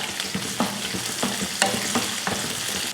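Sliced onion with cumin seeds and dried red chillies sizzles in hot oil in a pan, a continuous frying hiss broken by regular scraping stirs of a spatula, close and steady.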